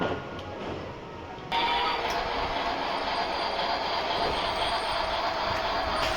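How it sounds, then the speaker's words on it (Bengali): A child's toy train, a birthday gift, whirs and rattles steadily nearby, growing suddenly louder after a moment and then running on as a continuous mechanical hum. "জন্মদিনে তো ট্রেন ও গিফট পেয়ে গেলে"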